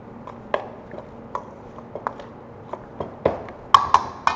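Tomato concassé with extra virgin olive oil and a touch of balsamic is stirred in a bowl, making light, irregular clinks and taps of a utensil against the dish, fairly quiet and close, with no talking.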